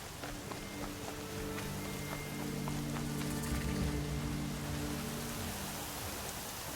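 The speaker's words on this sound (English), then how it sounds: "we got right back into Colorado, and it's raining." Steady rain falls in the video game Horizon Zero Dawn, a continuous hiss of downpour with faint droplet patter and a soft tonal ambient hum beneath, with no voices.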